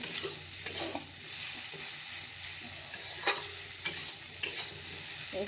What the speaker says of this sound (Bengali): হলুদ দিয়ে দিয়েছি তো ভাজা ভাজা হয়ে গেছে সবজিটা